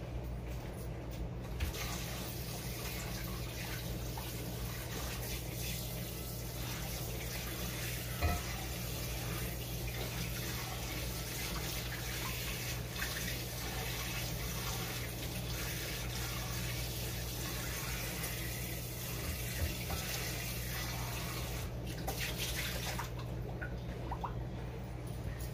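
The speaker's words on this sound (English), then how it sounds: "Rinse this out a little bit." Water running steadily into a new Lodge 10.25-inch cast iron skillet as it is rinsed, a continuous hissing splash heard up close, with occasional faint knocks and no speech.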